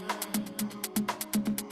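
A DJ track plays with its bass cut, leaving thin, punchy rhythmic hits and bright ticking percussion over sustained tones, moderately loud and without any voice.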